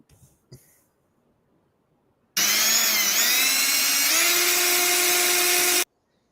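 After a few faint knocks, a power drill whines loudly and continuously for about three and a half seconds, its pitch shifting as it bores into an existing hole, then cuts off abruptly.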